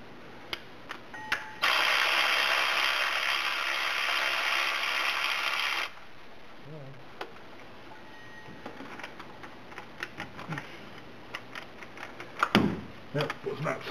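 A ratchet and socket work on a 5.7L Hemi water pump, with a long burst of loud mechanical whirring followed by scattered metallic clicks and clanks nearby, with someone talking at times.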